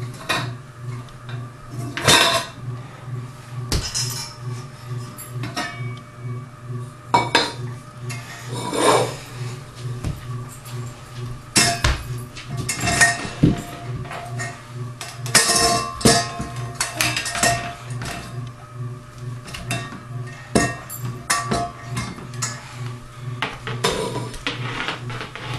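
A child named Ali bangs and scrapes pots, pans and utensils, producing irregular clattering metallic hits and rubbing sounds up close over a low steady hum, with no one talking.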